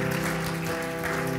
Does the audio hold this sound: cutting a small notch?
no